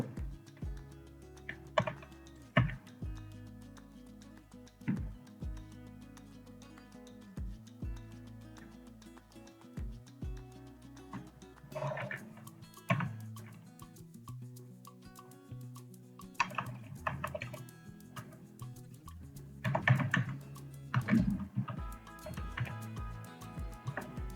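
Typing on a computer keyboard while entering ID card text in MS Word: scattered soft key clicks come in short bursts under steady background music.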